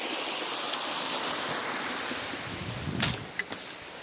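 A stream flows past a beaver dam on a woodland hike, a steady broadband rush of water with some wind, ending in a few brief close rustles and knocks.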